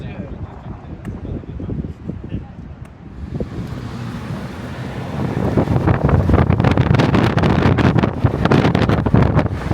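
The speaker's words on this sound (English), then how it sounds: "it's so windy" Strong gusting wind buffets the microphone on a beach during a 4WD drive, a steady low roar that swells louder and rougher in the second half, with people talking over it.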